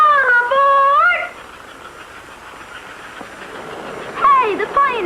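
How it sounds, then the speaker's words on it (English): An American Flyer model train pulls out of the station with a bright wavering whistle blast at the start and another at the end, and a soft steady steam-like hiss between them. "Hey, the Pioneer is pulling out."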